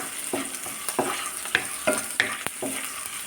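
Ginger, garlic and green chillies sautéing in a pan, a soft continuous sizzle broken by regular scrapes and taps of a spoon stirring.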